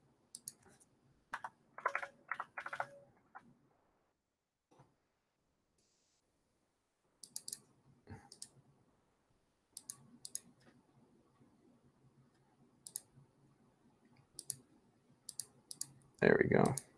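Typing on an ASUS ROG Falchion compact wireless keyboard, smaller than tenkeyless: scattered bursts of crisp key clicks separated by pauses, close and clear, with brief speech in places.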